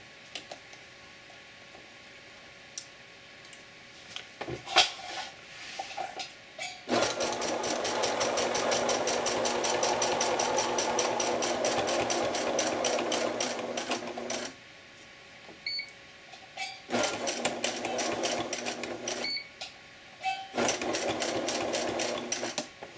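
A sewing machine stitches an apron in several runs: a long continuous fast-needle burst, then shorter bursts separated by pauses, loud and close with no talking.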